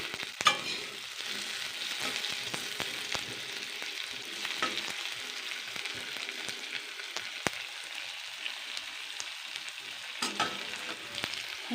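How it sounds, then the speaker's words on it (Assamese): Potatoes frying in a pan for an Assamese egg and soybean dish: a continuous close sizzle with scattered pops and crackles, steady throughout with occasional stirring clicks, no talking. "অকণ ফ্ৰাই হ'ব দিব আলুবিলাক"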